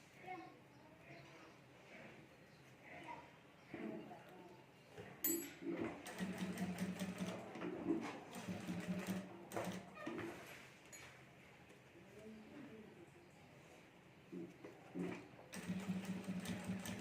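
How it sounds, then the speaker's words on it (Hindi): A sewing machine stitches a zip onto a clutch bag in short, uneven bursts at low volume, with handling clicks and rustles between runs of stitching. "यहाँ अंदर रख कर हमें सिलाई करनी है"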